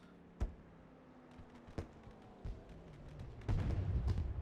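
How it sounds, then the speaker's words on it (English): Fireworks boom at intervals after a truck race in a sim racing game at Kansas Speedway, a few sharp, distant bursts followed by a denser, rumbling cluster near the end, fairly faint overall. "you can hear the fireworks going off in the background"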